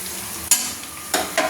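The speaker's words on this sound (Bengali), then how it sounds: "দেখুন, আপনাকে আমি নেড়ে দেখাচ্ছি, লাল লাল করে ভাজা হয়ে গেছে।" Onions stirred and fried in a pan for a Bengali mutton dish, a steady close sizzle broken by a few loud scraping stirs toward the middle and end.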